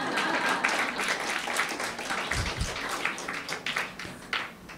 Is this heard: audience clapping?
yes